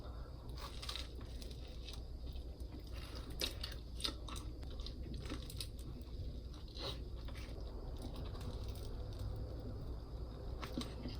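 Chocolate banana toast spread with Nutella is chewed close up, with soft crunchy bites and squishy mastication sounds repeating irregularly and quietly, no talking.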